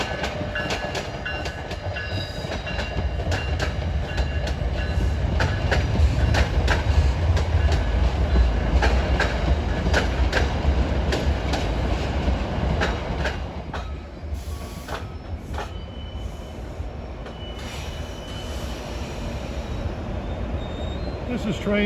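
New Jersey Transit train 3256, running from Long Branch to New York, rushes by on the corridor at Rahway with a steady loud rumble and rapid wheel clatter, then drops to a quieter trailing roar.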